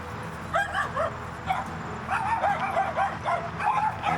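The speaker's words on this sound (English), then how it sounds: "Oh, they're barking at you guys." Several dogs yip and bark repeatedly in quick, high-pitched bursts, fairly close, with steady background noise underneath.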